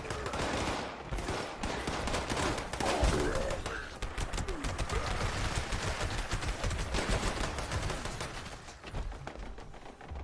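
Turrets in Fallout 76 fire rapid bursts of gunfire, dense crackling volleys that run for about ten seconds before easing off, with cooing birds faintly behind.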